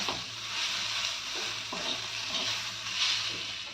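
Cumin powder and spices for tadka dal are stirred in a hot frying pan, giving a soft continuous sizzle. Faint scraping strokes from the stirring recur every half second or so, quiet and close, with no talk.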